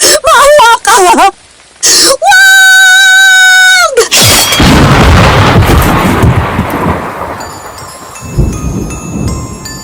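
Thunder rumbles and storm noise swell in a dramatized radio horror story, a long roaring crash following loud tonal sound effects and cries, then fading into a rainy wash.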